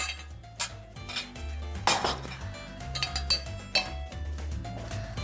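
A spoon spreading cooked noodles in a serving dish, repeated metallic clinks and scrapes against the dish in an uneven rhythm, close and clear with no talking.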